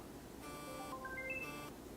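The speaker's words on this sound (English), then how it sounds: "it will vibrate the phone and it will chime a little bit" A phone, set off by the Find My Phone feature on a Wyze Band, gives a soft rising series of short chime tones, faint and nearby over a steady background hiss.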